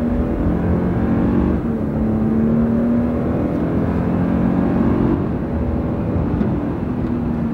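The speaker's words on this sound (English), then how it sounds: "And we'll see what this 389 horsepower can do on a straight road and normal driving. Here we go. The turbos are kicking in." A turbocharged 389-horsepower truck engine pulls hard on a straight road, a loud, dense, continuous drone with a steady tone that barely dips, heard from inside without any talking.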